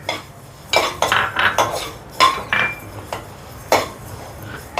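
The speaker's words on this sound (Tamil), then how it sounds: "முதல்ல நம்ம வெந்தயத்தை வறுத்துக்கலாம் இதுலேயே சீரகத்தையும் போட்டு வறுத்துக்கலாம்" Fenugreek and cumin seeds are dry roasted in a pan for garlic pickle. A utensil gives close, sharp scrapes and clinks against the metal in irregular bursts, with quiet gaps between them.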